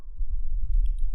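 Computer mouse clicks on a desktop while a user confirms a dialog, a couple of short, close, soft clicks over a low background hum.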